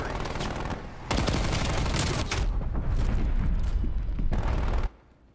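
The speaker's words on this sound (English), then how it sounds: "Incoming artillery." Artillery strike in the Call of Duty Black Ops Cold War multiplayer game: dense, loud rapid-fire explosions and gunfire rumble on for several seconds, then cut off abruptly.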